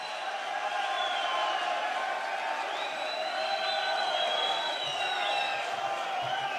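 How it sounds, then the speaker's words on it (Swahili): A crowd applauds the governor of Nairobi, Johnson Sakaja, at a hall event at KICC in Nairobi, with steady sustained clapping and scattered cheers and whoops throughout. "Makofi ya gavana."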